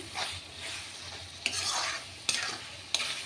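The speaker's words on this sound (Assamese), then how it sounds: "এইখিনি অকণমান ফ্ৰাই কৰি লৈছোঁ" Potatoes and pointed gourd sizzle in a pan with spices, a steady frying hiss broken by three sharp metal clicks from the stirring spoon.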